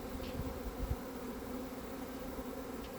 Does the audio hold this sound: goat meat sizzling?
no